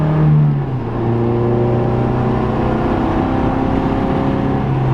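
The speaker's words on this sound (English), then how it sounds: "1320 header with the Yanaka exhaust sounds awesome." A Mazda Miata with an Ecotec LE5 engine swap, 1320 header and Yanaka exhaust revs up and pulls hard while driving, a loud, close, sustained engine note with rising pitch and no talking.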